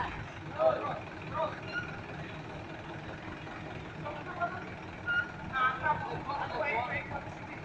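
An Indonesian contest truck, lowered very close to the ground, creeps into a parking spot amid a rumbling engine and scattered mechanical clatter while someone talks throughout.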